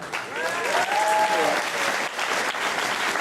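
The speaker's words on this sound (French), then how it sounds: "Vous applaudissez à nouveau Arnaud Rollet, s'il vous plaît" An audience applauds a solo sailor introduced at an ocean race stopover in Saint-Nazaire, with steady, full clapping and a brief whistle or cheer rising above it.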